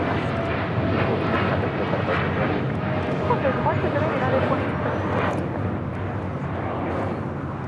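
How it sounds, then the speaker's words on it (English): A United Airlines Boeing 787-10 Dreamliner departs LAX for Newark, its engines a strong, sustained rushing roar close by with a slight swell partway through, and a voice speaking over the noise. "taking off to Newark on a 787-10 Dreamliner"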